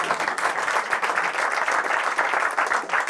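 Steady applause from an audience at a French stand-up or political comedy show, dense even clapping sustained throughout without voices.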